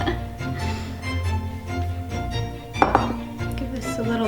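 Flour, baking soda, salt and sourdough starter are stirred together in a bowl, giving close clinks and scraping taps of a utensil against the bowl over a low background hum.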